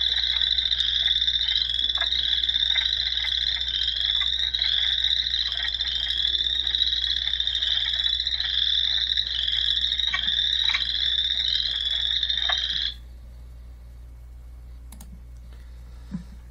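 Frog calling in a rapid, steady run of quick raspy rack-rack or quack-quack notes, loud and close for about thirteen seconds before stopping abruptly, leaving faint background.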